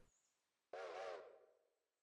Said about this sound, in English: So I need to pick a whistle. He comes with a 5 chime.